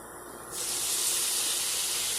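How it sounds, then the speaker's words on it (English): Mushrooms sautéing in a heated, oiled pan: a steady hiss jumps to a loud, bright sizzle that holds evenly, close up and alone. "We're going to saute our mushrooms so they nice and soft"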